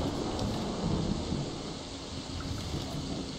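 Thunderstorm in Fallout 3, a steady dense roar of heavy rain with low rumbling thunder and wind, continuous and fairly loud throughout with no talk.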